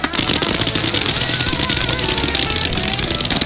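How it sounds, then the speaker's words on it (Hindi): Firecrackers set off for the Fourth of July crackle in a loud, rapid, continuous barrage of pops and bangs, close and dense throughout. "मैंने बस रैंडम पटाखे खरीदे थे, सोचा नहीं था इतना बवाल मच जाएगा।"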